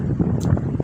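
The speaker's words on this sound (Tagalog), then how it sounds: "lakas ng hangin, grabe" Strong wind gusts outdoors beside a supermarket in Abu Dhabi under dark, cloudy skies, a loud, steady rumble buffeting the microphone without pause.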